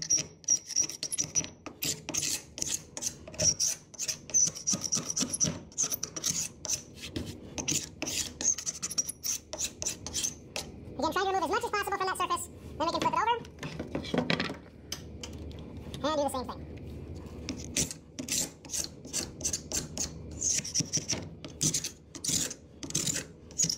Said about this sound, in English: We're gonna come in and scrape off the glue.